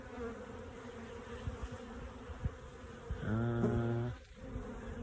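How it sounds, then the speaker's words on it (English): Honeybees swarm an open hive on a bee farm in a constant low buzz, and one bee flies close by with a louder, rising hum for about a second before it moves off. "You can also see there's an awful lot of bees"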